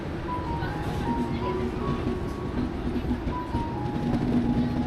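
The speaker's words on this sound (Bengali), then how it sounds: "ডট টাইমে আমাদের ট্রেন শিয়ালদা ছেড়ে এগিয়ে চলল নিউ জলপাইগুড়ির উদ্দেশ্যে।" The Sealdah Darjeeling Mail train runs through the night, a steady rumbling roll with faint rail clatter and a low hum heard from inside a carriage, continuous and fairly loud, with indistinct background voices.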